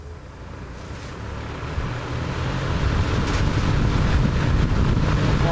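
An Emerson 746310-AW metal-bladed box fan runs close up, a broad airy whoosh over a low rumble that builds slightly louder and holds steady with a faint flutter.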